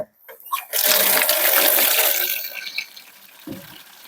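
Water poured out for pets at feeding time, a gushing splash that starts abruptly after a few light knocks, runs strongly for about two seconds, then tapers off to a trickle and a final clunk.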